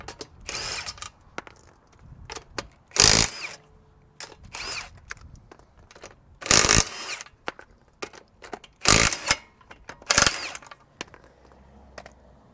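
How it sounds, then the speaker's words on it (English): An impact wrench removes lug nuts on a 2017 Nissan Maxima in several sharp, loud rattling bursts separated by quieter pauses with small clinks of nuts being handled. "We're gonna use impact, get the rest of these bolts out."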